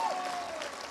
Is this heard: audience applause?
yes